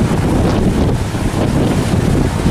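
Strong wind buffets the microphone at a Lagi port entrance in Bình Thuận as large trawler boats come in, a steady loud rumbling roar with no talk.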